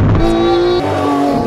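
Lamborghini Urus V8 with a Novitec exhaust in Sport Corsa mode, a loud steady engine drone held close with a sustained tone that eases slightly partway through.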